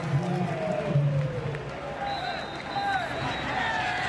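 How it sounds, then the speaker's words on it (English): A stadium crowd at a CFL football game in Victoria, BC Lions against the Ottawa RedBlacks, sends up a broad, sustained roar with scattered applause after a completed pass, heard beneath a commentator's voice. "that'll bring a huge roar of applause and appreciation from the crowd here in Victoria."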